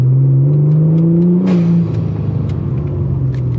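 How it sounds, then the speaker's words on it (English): A Ford Taurus SHO engine under boost lets out a sharp hiss as its blow-off valves vent, layered over a loud engine drone that drops in pitch and then settles into a rumbling idle. "so you hear the wastegates venting hard. Not the wastegates, the blow-off valves."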